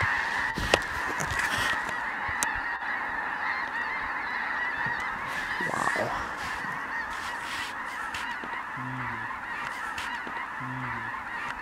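Large flock of snow geese in North Dakota honking continuously, a dense overlapping chorus of calls over steady wind, with a few nearer individual honks standing out toward the end.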